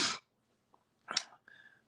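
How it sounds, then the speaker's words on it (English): A person sneezes twice up close, each a sharp, breathy burst, with a short pause between and a faint trailing tone after the second. "Hope I'm not getting sick, man. I'm only sneezing."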